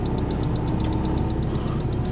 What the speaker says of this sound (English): It's beeping away now to tell me I've done the 10 minutes.